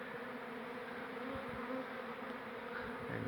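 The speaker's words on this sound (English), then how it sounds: "there you'll see bees fanning" Bees from a relocated barrel beehive hum steadily and softly around the hive entrance, a continuous insect drone with a few faint low bumps, with no voices present.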